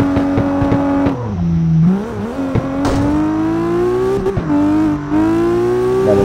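A drift car in CarX Drift Racing 2 screams close up, its engine revving hard and dropping between shifts while the tires squeal through slides, loud and continuous with no talking.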